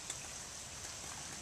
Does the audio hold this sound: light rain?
yes